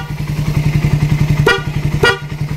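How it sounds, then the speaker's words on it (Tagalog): Dual horn on a Raider 150 motorcycle gives two short, loud honks about half a second apart over a steady, rhythmic engine idle. "loud horn."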